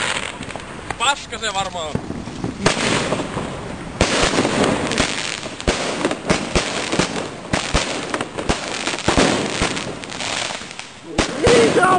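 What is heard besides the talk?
fireworks display exploding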